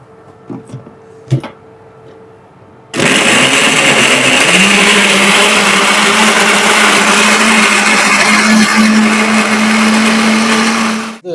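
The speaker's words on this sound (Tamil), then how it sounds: "அரைச்சி எடுத்துக்கோங்க." A mixer grinder starts abruptly after a few small knocks and whirs loudly and steadily, grinding a curry paste for an African chicken curry, its motor pitch settling lower midway and holding until it cuts off.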